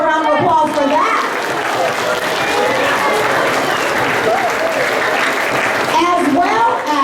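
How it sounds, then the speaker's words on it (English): Loud, steady applause from a school ceremony audience fills the room for about seven seconds, with scattered crowd voices and a voice mixed into the dense clapping. "Let's give her a round of applause for that."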